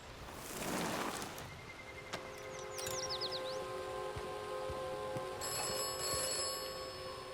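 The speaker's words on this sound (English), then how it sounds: "So there's that phone ringing again" A telephone rings repeatedly in Atomfall, a game, with steady sustained bell tones over a quiet, rustling ambient background.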